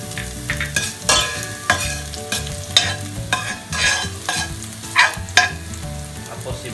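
Garlic is sautéed in hot oil in a pan for pancit canton, a loud close sizzle punctuated by repeated clanking spatula strokes against the metal pan, with no talking.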